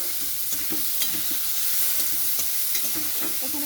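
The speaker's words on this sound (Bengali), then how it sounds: "আমি এখন চিংড়ি মাছটা দিয়ে দিচ্ছি ভাজার জন্য" Prawns fry lightly in a little oil, a continuous close sizzle with frequent spatula scrapes and stirring knocks throughout.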